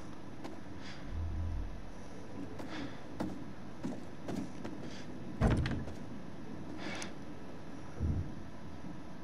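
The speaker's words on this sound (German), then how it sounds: "ich höre doch hier Türen" Faint, muffled thumps and knocks of doors opening and closing in a video game (The Devil in Me) sound through a low background hum, with one louder bang near the middle.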